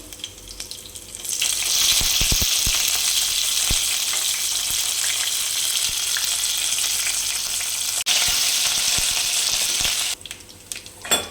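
Curry leaves hit hot oil for tomato dal and crackle into a loud, steady sizzle that holds for most of the stretch before quieting near the end.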